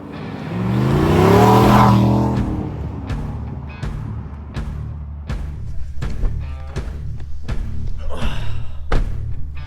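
A truck engine cranks and catches, rising in a loud rev, then settles into a steady rumble punctuated by repeated sharp knocks and clatters.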